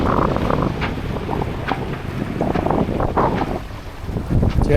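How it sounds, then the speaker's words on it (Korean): Sailboat moving at seven to eight knots under wind power alone, engine off; wind buffets the microphone over a steady wash of water along the hull, loud and close, with no speech. "지금 엔진 없이 순수 바람의 힘으로만 7에서 8노트로 항해를 하고 있습니다"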